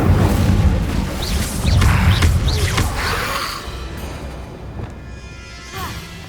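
Confringo fire spell explosion in Hogwarts Legacy, a heavy rumbling boom with crackling debris that rolls off and fades into a quieter tail.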